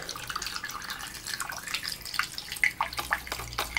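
Water poured through a funnel and filter while rooting hormone is being strained, a steady trickle with irregular splashes and drips, close and fairly soft, no voices.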